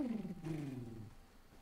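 A ladybug creature in the video game Grounded gives a short, low, descending warbling call with layered tones. It is close and clear, with no talking over it.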